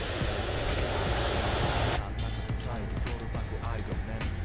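A simulated airplane engine in a flight simulator game drones as a steady, loud broadband roar throughout, with its tone shifting noticeably about halfway through.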